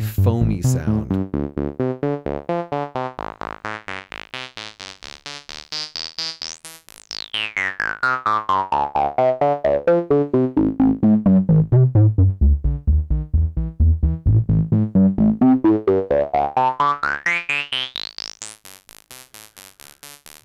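Analogue Solutions Nyborg-12 synthesizer played through its bandpass filter: a fast, steady stream of pulsing sequenced notes while a resonant peak sweeps down and back up, giving a frothy, hollow tone that runs loud and alone throughout.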